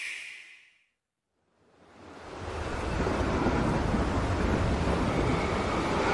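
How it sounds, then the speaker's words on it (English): Rushing water wave effects from a Bowser video game, a steady loud surging roar that swells in after a brief silence and keeps washing on. "Oh, got the water effects."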